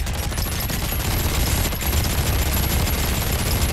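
Dense, continuous gunfire from the survival game ARK, a rapid fusillade of shots that stays loud throughout with no pauses.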